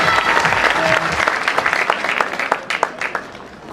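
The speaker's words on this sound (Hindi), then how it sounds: "धमाकेदार तालियां, बिल्कुल जोरदार।" Loud, sustained audience applause at a Safe Shop business seminar, dense clapping from a large crowd that thins into scattered, sharper individual claps toward the end.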